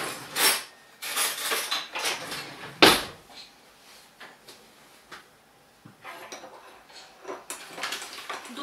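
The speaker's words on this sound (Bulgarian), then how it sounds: "разбъркваме" Spoon clinking and scraping against a bowl while stirring a sweet bread dough mixture, a series of brisk metallic taps and scrapes at close range, spaced irregularly with quiet pauses between.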